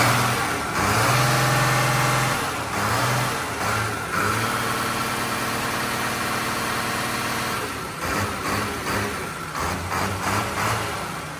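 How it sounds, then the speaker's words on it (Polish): Farm vehicle engine running after a hydraulic pump replacement, a close, steady diesel-like rumble with a few revs up and down and vibrating drone, no talk. "Na tą chwilę pracuje bardzo dobrze, żwawy silnik."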